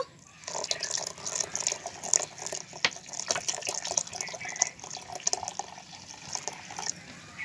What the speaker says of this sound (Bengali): এবারে আমি ঠান্ডা জল দিয়ে দেব